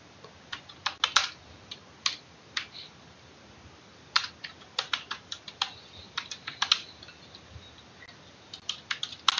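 Typing on a computer keyboard, close and fairly quiet: irregular bursts of key clicks with short pauses between runs, and no voices over it.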